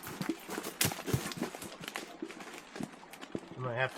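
Pack goats' hooves clop on the ground at a stormy high-altitude tarp campsite, a loose irregular patter of steps running throughout under a person's voice, with a short bleat-like call near the end.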